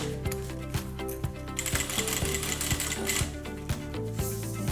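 A sewing machine stitches a quarter-inch seam on a zip-around long wallet, running back and forward in a fast, steady mechanical clatter with regular thumps, close up.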